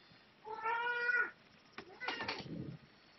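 An in-game cat from a competitive video game match lets out a single drawn-out meow, followed by a few scattered, muffled game noises at low volume.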